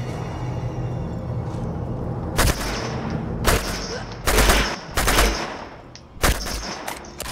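Gunfire from Uncharted 2: Among Thieves comes as about six sharp, loud shots at irregular intervals, each a short crack over steady background game ambience.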